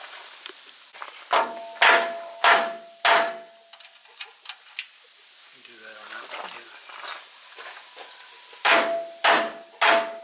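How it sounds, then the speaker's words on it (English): Sharp metallic hammer strikes come in bursts, a quick series of blows, a pause with lighter taps and a spoken remark, then another rapid run of hits. "I'm going to go in there and get the hammer."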